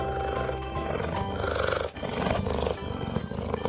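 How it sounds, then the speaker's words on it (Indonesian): A cartoon polar bear roars in a loud, growling burst that repeats and swells over a dense, busy backdrop of sound. "Wih, beruang kutub teman-teman."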